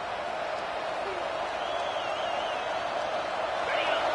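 A packed stadium crowd roars at an American football game, a dense, continuous wash of cheering that swells slightly toward the end, heard at a distance behind faint broadcast ambience.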